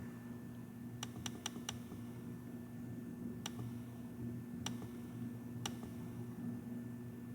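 A handful of sharp, separate keystrokes on a keyboard during a calculus homework session: a quick burst of four clicks, then three isolated taps, all over a steady low electrical hum.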